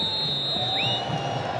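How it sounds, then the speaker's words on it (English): Football stadium crowd at the 2006 Africa Cup of Nations match between Egypt and Libya roars after the home side's goal, with a sustained loud cheering wash and a brief high whistle-like tone over it. "The crowd just going berserk."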